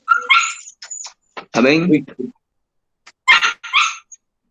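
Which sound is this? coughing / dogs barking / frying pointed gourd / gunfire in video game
dogs barking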